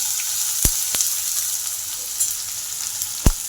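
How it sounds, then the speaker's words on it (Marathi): Chopped onion sizzles in hot oil with cumin in a darkened kadhai, a steady loud frying hiss with a few sharp clicks of a spoon stirring against the pan. "कांदा टाकून घ्यायचा."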